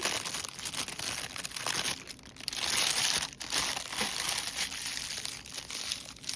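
A plastic piping bag filled with frosting is folded over, giving a continuous close crinkling and crumpling of plastic that rises and falls over several seconds, with no voices.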